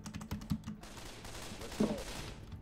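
An AK rifle fires in the zombie game Left 4 Dead 2, with sharp bursts of rapid shots clustered early and a few scattered cracks later over a steady game background.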